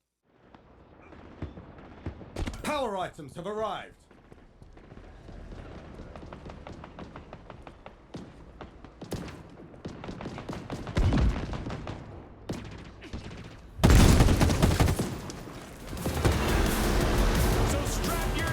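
Gunfire and explosions in video game footage, with scattered bursts and sharp shots building to loud, dense booming blasts near the end, mixed with a brief spoken line and other game sounds.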